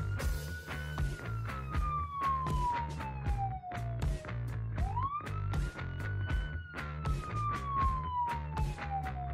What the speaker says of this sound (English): The police cars just kept coming.